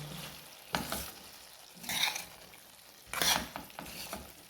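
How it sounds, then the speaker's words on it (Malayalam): Chicken curry being stirred in a pan, with three distinct bursts of scraping and sizzling separated by quieter simmering, close and moderately loud. "ഒന്നിങ്ങനെ നന്നായിട്ട് ഇളക്കി കൊടുക്കാം"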